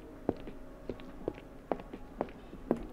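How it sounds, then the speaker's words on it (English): Footsteps on a wooden surface from an Unreal Engine 5 footstep system, about seven evenly paced hollow knocks at walking tempo, moderately loud over a faint steady background hum, with no voices. "you can hear the footstep sounds of what it would sound like on wood"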